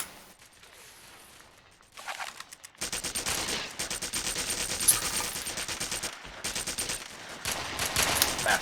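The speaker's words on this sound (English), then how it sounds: "Artillery fire." Artillery and heavy gunfire in the video game Red Faction. After a quieter opening, a dense, loud barrage of rapid automatic shots and blasts starts and rolls on almost without a break.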